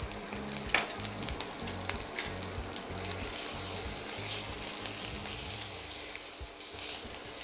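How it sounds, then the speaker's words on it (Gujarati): Ginger and chili paste sautéing in a pan, with asafoetida just added, gives a steady close sizzle and fry with light scraping stirs throughout, and nobody speaks. "આદુ મરચાં સરસ સતળાઈ ગયા છે,"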